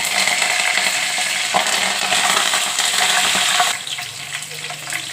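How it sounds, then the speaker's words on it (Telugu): Dried red chillies, crushed garlic cloves and curry leaves crackle and sizzle steadily in hot oil for a ridge gourd tomato curry, loud and close, with a small clatter midway and the hiss easing slightly toward the end. "వేగినాక తుంచుకున్న ఒక 3 ఎండుమిర్చి, చితగొట్టుకున్న వెల్లుల్లి రెబ్బలు, కరివేపాకు"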